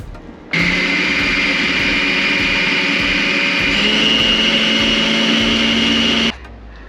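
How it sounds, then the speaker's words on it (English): A blender processes bulgur wheat and onion, starting abruptly into a loud steady whirring drone that holds for about six seconds, shifting pitch slightly midway, then cuts off sharply; no one speaks. "Add this to it, blend it."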